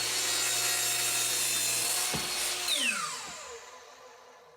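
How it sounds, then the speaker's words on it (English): A miter saw slices through a board while making wooden horses, a loud steady whine of blade on wood that fades as the cut finishes and the motor spins down. "When I bring the piece back to the miter saw, I like to take a little bit off on one side"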